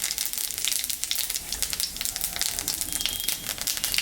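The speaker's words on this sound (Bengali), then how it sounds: "শুকনো লঙ্কা জিরা সম্বরা দিলাম" Dried red chillies and cumin seeds tempering in hot oil left from frying puti fish make a dense, crackling, popping sizzle that stays close and even throughout.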